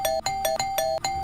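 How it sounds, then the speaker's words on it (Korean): Doorbell ding-dong pressed over and over in quick succession, a bright electronic two-tone chime repeating about five times in just over a second, loud and close with no pauses between presses. "그 띵동 하는 그 초인종 소리가"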